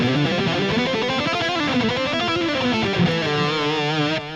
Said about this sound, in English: I dialed in a pretty heavily distorted guitar tone.